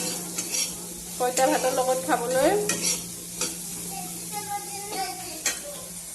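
Small potatoes frying in an oiled pan, an even sizzle under clear scraping stirs, while someone talks over the cooking close by.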